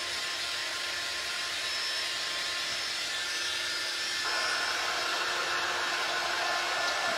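A hair dryer blows steadily and loudly, drying wax and paint on a chalk stencil butterfly craft, an unbroken whooshing hum that shifts slightly in pitch partway through, with no voices.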